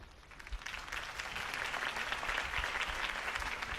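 Steady applause from a crowd in a Batman video game, a dense wash of clapping held at a moderate, distant level throughout.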